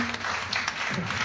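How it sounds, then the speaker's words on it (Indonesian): Audience applause at a televised Indonesian show, a short burst of clapping with some voices mixed in, fairly close and steady. "Berikan tepuk tangan dong teman-teman."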